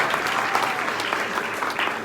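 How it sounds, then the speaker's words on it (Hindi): Loud applause from an audience at a motivational business event, a dense continuous clatter of many hands clapping at an even level throughout, with no talk. "इनके लिए भी जोरदार तालियां होना चाहिए।"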